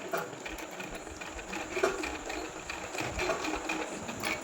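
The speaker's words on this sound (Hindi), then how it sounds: "और फिर हम यहाँ से दोबारा इसकी यहाँ तक सिलाई करेंगे स्टार्ट" A sewing machine stitches printed fabric for a kurti, running steadily and close with a continuous mechanical whir and rapid needle clatter.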